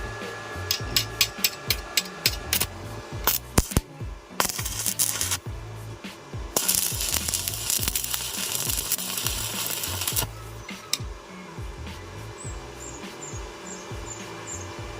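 An inverter welding machine set to 130 amps with no voltage welds in irregular crackling bursts, with sharp taps and stretches of loud sizzling spatter, close and without talk.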